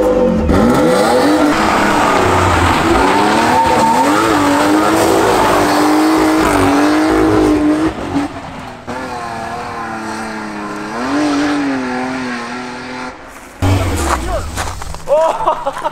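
Car revs hard and speeds along, a loud engine climbing through the gears with tire squeal and skidding, while people shout and talk over it.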